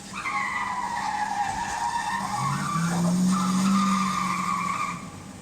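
Carrera digital slot cars racing, played as sound effects through an old PC speaker: steady whining engine tones with tire screeches and a rising skid, continuous and fairly loud with no talking.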